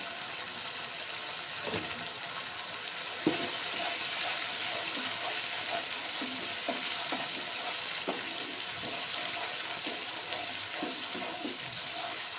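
Spice masala and kidney beans sauté in oil in a pan: a steady close frying hiss runs under repeated light scrapes and taps of a stirring spoon, with no one speaking.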